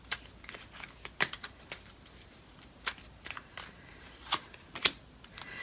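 Tarot cards are shuffled and handled in soft, scattered flicks and snaps, faint and close with quiet pauses between.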